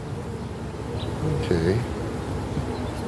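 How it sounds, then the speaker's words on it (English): Honey bees buzz around an open hive during an inspection after the queen excluder is removed, a steady low drone with a few louder passes close by, under a single short spoken word. "Still got some bees keeping them going."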